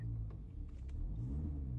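Audi A6 S-Line 2018 engine idling steadily after a push-button start, a low, continuous rumble close by with no talking.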